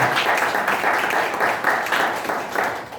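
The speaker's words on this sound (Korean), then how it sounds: "큰 박수 부탁드립니다." A congregation at a Korean Full Gospel church service claps together in a warm, even wave of applause that holds steady for a few seconds before easing off.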